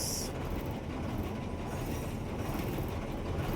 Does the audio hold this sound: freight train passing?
yes